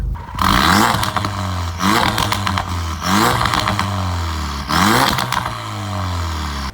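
Ford Focus RS with an aftermarket exhaust and its valve open, revving in several loud, deep bursts that rise and fall, each with a rough, burbling tone between pulls.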